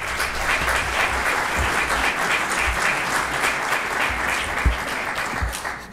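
Sustained audience applause fills the room at a men's health dialogue event, steady dense clapping throughout with a few louder individual claps near the end and no voices over it.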